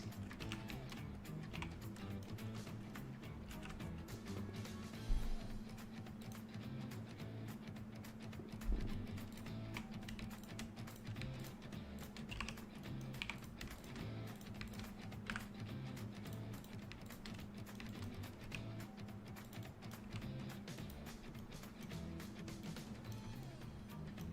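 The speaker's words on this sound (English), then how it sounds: "I wonder if I should get a keyboard that's even louder so that you guys can have ASMR when I'm quiet." Steady typing on a computer keyboard runs through the whole stretch as a dense, even patter of close clicks, with a low continuous hum underneath and no talking.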